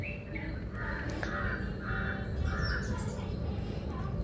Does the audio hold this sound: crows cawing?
yes